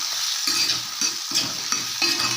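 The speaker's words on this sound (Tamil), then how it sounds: "கொஞ்சமாக உப்பு போட்டு வதக்கிக்கலாம்" Bottle gourd chutney ingredients are sautéed with salt in a pan, a continuous sizzle broken by rhythmic spatula scrapes and knocks roughly every half second, with no talking.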